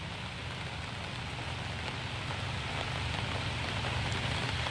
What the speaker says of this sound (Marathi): पावसाचा जोर कमी झालेला आहे का